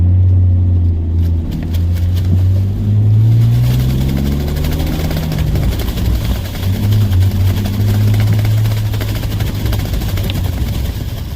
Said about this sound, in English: This plastic is literally the loudest thing.